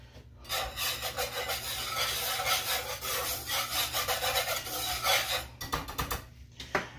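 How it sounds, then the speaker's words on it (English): Rough, rhythmic crunching of salt and pepper being ground in a hand grinder over a pan while cooking zoodles, close and steady for several seconds, then tapering into a few scattered twists. "And here's the salt and the pepper in the grinder together."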